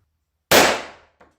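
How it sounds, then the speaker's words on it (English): A single sharp, loud pistol shot fired at a target with a Colt 1911 or Kimber Pro Crimson Carry II, ringing out briefly before faint echoes follow. "Let's shoot at the head."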